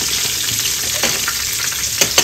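Chicken crisps in a small amount of oil in a pan for Filipino-style fried chicken, a steady dense sizzle and crackle with occasional sharper pops.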